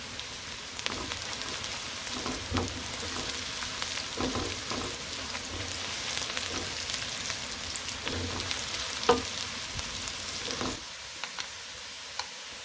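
Whole cumin seeds and two green chilies sizzle steadily in hot oil, a continuous crackling hiss with scattered sharper pops, close and fairly quiet, no voices.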